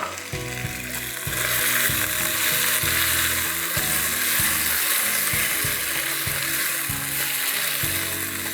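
Peanuts and green onion fry in a pan for a Schezwan chilli rice bowl, giving a steady loud sizzle with rhythmic scraping and clattering from stirring throughout.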